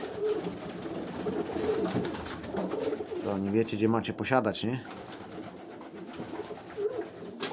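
Pigeons coo inside their loft, soft throaty rolling calls rising in a cluster midway, under someone talking in Polish nearby.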